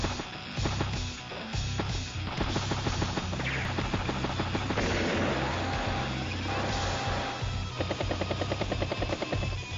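Battlecopter attack in Advance Wars: Days of Ruin, a game sound of busy, continuous rotor-like chopping mixed with gunfire-like clatter and crashes, loud and steady across the whole stretch with no voices.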